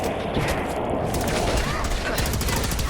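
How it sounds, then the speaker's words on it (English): Enemy gunfire in Fallout 4, a dense, continuous rattle of rapid shots and bursts filling the whole stretch, loud and close. "You're shooting at me. You are shooting at me, and that's not cool."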